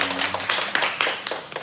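A Korean church congregation claps during a live Sunday worship service to welcome visitors: a brief burst of four or five loud, rhythmic clap clusters filling a room.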